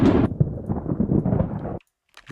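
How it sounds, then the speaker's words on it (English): Thunder rumble sound effect layered in sound design, a dense low rumble that rolls for under two seconds and then cuts off abruptly into silence. "is add some thunder rumbles."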